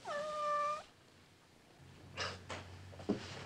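A kitten gives a single clear, drawn-out meow up close, followed by faint rustling and light knocking sounds in a quiet room.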